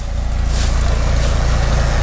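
A Farmall Super M tractor idles while set up for skidding heavy oak logs, giving a continuous low, throbbing engine rumble that stays loud and even for two seconds, with no speech.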